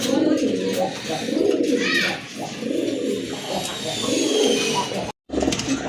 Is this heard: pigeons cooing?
yes